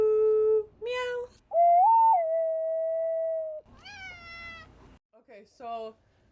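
A person imitates a cat's meow on a podcast, with a drawn-out vocal meow and a second person adding a long whistled 'ooh', followed by shorter meow-like calls, loud and close with no other sound.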